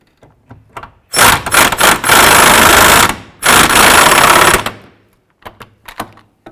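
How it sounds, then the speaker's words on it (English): On a 2005-10 Jeep Grand Cherokee, a power tool tightens a bolt in two loud rattling bursts. Brief clicks and taps come before and after, with quiet gaps between. "we'll go up and tighten up this forward bolt first"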